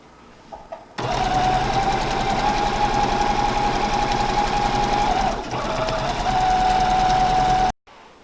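A sewing machine stitching a seam around the edge of a fabric cover for a recycled tire seat runs loud and steady for about seven seconds, with a brief slowdown midway, then stops abruptly.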